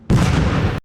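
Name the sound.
nectar grenade explosion in video game Haze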